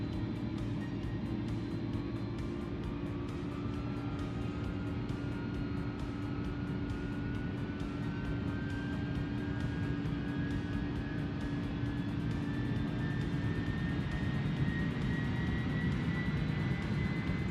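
A plane takes off in a flight simulator game: a steady engine drone holds throughout while a higher whine climbs slowly in pitch as power builds, with no voices.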